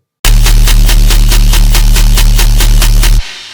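A loud, distorted tearout bass synth made in Serum pulses in a fast, even rhythm of gritty tearing hits, then stops abruptly.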